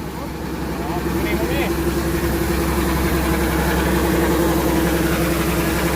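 The engine of a Kubota combine harvester runs loud and close, a steady heavy rumble that holds level and rises slightly, with a voice speaking over it.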